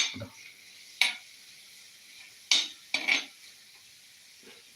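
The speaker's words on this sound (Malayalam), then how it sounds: "ഒന്ന് ജസ്റ്റ് ഇങ്ങനെ ഇളക്കി കൊടുക്കുക" A spoon scrapes through tuna curry masala in a pan in four or five short, separate strokes, each a brief gritty rasp over a quiet background.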